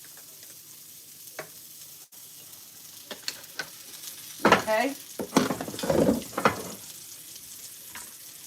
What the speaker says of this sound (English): so we're frying up these hot dogs